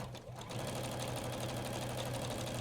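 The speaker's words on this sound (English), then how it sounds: "I'm just literally sewing a little bit and then parting it and putting it back together" Sewing machine stitching a striped tote bag, running at a slow, steady speed with a continuous low mechanical hum and rapid needle chatter throughout, close and alone after a brief quieter start.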